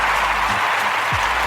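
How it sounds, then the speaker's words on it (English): A round of applause sound effect played during a radio show, a brief burst of steady, dense clapping that fills the short moment without any talk over it. "we could probably just give them a round of applause."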